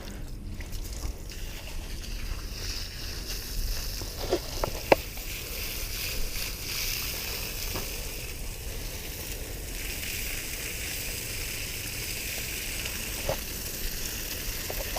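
A cast net for mullet lies on the ground and is rinsed with water, giving a continuous close hiss and patter of spraying water with occasional small knocks and splashes, no one talking.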